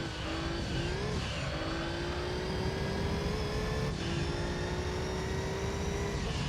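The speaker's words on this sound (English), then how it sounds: "I love the boxer engine sound." A boxer-engine car in the Gran Turismo 3 racing game revs and climbs through the gears, a loud buzzing engine note rising in pitch, dropping at a shift and rising again, alone without talk.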